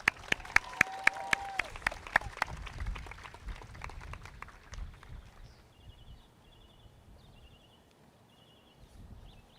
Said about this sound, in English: Kai Rosser, Abigail Wyatt, Please give them a well-deserved round of applause.